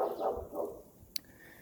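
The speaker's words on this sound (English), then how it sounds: "the dog won't quit barking" A dog barks a couple of times at a dirt-moving work site, the barks moderately loud and slightly distant, followed by a brief sharp click and quieter surroundings.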